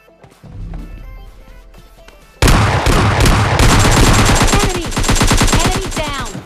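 Gunfire in the PUBG Lite battle royale game: after a quieter opening, heavy automatic bursts erupt suddenly and keep going as loud, dense, rapid shots with impacts mixed in, continuing steadily to the end.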